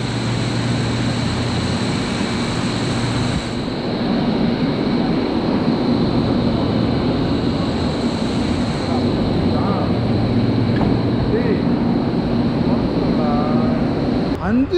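Mumbai monorail train running, a steady loud rumble and hum of the carriage in motion with a constant high whine throughout, while people talk close by over the running noise.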